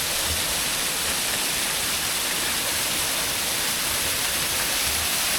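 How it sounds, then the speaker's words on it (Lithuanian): Small waterfall pouring inside a long tunnel on Madeira, a steady close rushing wash of falling water that fills the whole clip without pause. "O, žiūrėk, vėl kriokliukas iš karto atėjo"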